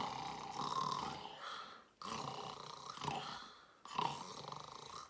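A voice imitates a sleeping dump truck snoring, giving three long, rough, growly snore-like bursts in an even rhythm, close and fairly loud.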